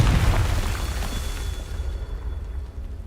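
Confringo blasting spell exploding in the Hogwarts Legacy game, a loud booming burst right at the start that rumbles and slowly fades over about three seconds, heard alone.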